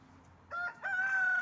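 A small young rooster crows nearby, a short clear call broken into two parts, the second note held steady and bright, with no talking.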